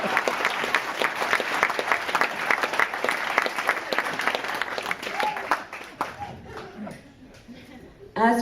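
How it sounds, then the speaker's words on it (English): An audience at a family speech applauds in dense, steady clapping that dies away after about six seconds, followed by a few scattered claps and murmurs. "Now you're supposed to clap."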